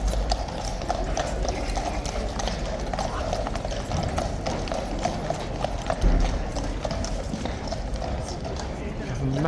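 Hooves of Blues and Royals cavalry horses clip-clop steadily on pavement, many horses moving together in a dense, continuous clatter, with people talking in the background.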